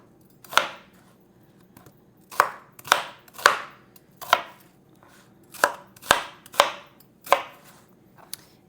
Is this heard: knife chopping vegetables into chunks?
yes